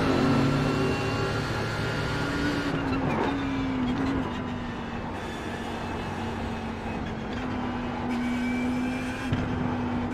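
Race cars in the iRacing simulator, a Mercedes among them, drone steadily with a whining engine tone that shifts pitch as another car comes past, a continuous mid-loud engine bed with no talk.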